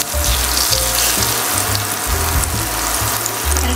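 Butter and cooking oil sizzling in a heated pan, a loud, close, continuous crackling hiss with intermittent low bubbling pops underneath.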